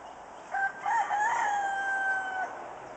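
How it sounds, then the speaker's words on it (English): A rooster crows once, faint and distant, a drawn-out call of about two seconds over quiet outdoor background. "Look down there. The rooster."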